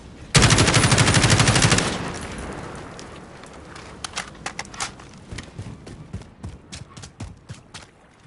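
Call of Duty gunfire starts with a fast, loud burst of automatic shots lasting under two seconds. A scattered run of quieter single shots and clicks follows, separated by uneven gaps.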